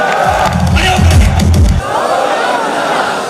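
A large crowd at a motivational business event for Surendra Vats cheers and shouts with loud enthusiasm, then the roar drops into sustained clapping and background noise.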